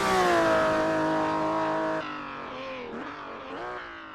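A 1962 Ferrari 250 GTO with 300 horsepower in the racing game Assetto Corsa, engine howling loud and steady at high revs down a straight, then dropping pitch at a gearshift and wavering as the revs rise and fall.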